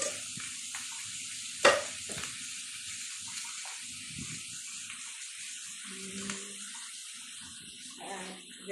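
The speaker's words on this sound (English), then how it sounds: "And then we add the garlic." Garlic hits hot chili oil and sizzles in a steady, close frying hiss, with a sharp clink of a utensil and some stirring over it, and a voice speaks briefly.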